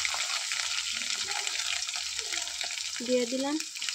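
Ginger and garlic fry in hot oil with a bright, steady sizzle, close and continuous, with a brief clatter of stirring near the end.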